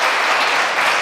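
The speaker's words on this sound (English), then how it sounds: "A warm applause and congratulations for" A dense, even wash of applause from a large audience at an international children's film festival award ceremony, sustained and loud with no individual claps standing out.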